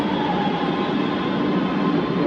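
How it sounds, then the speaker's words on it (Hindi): A metro train pulls into a station with a steady, dense rumble and roar, heavy in the low and middle range. It stays loud and even throughout, and no one speaks. "लगता है कि मेट्रो आ गई है।"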